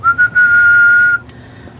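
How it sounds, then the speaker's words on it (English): A single clear, steady whistled tone held for about a second, whistled into the microphone of an Anytone AT-6666 HF radio transmitting into a dummy load, preceded by a few short whistle bursts, then quiet with a faint click. "you're literally like whistling into this radio to transmit"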